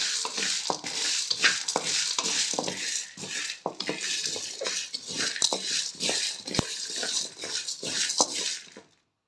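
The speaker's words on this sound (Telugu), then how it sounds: "బాగా కొంచెం దోరగా వేయించుకుందాం" Spices are dry-roasted in a pan while being stirred, producing a steady soft sizzling hiss broken by repeated scraping and clinking of a spoon against the pan, close and fairly quiet, with no talking.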